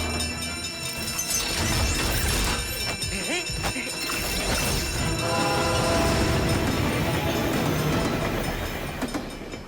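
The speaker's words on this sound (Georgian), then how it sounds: "იკეტება, რადგან მატარებელი მოდის" Cartoon train rolling toward a closing railway crossing barrier, rumbling wagons and clatter with a faint horn-like tone, loud and continuous, mixed with music and character voices throughout.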